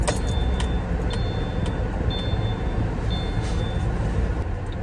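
A Subaru with a freshly changed CVT fluid drives on a road test, giving a steady interior hum of engine and road noise with faint rattles and ticks on top, moderately quiet and continuous, with no speech.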